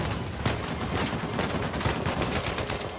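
Dense gunfire from the video game Uncharted 4 rattles in rapid, overlapping bursts like automatic weapons, loud and continuous through the whole stretch with no speech.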